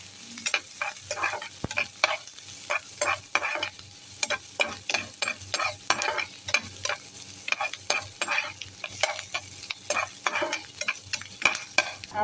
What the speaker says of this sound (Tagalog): Habang nagkikisa po tayo ng ating sibuyas